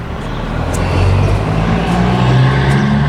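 Heavy road traffic with loud trucks rumbles past nearby, a deep engine drone swelling and holding at close range with a hint of air brakes, and no talking.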